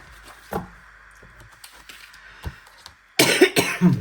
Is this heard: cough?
yes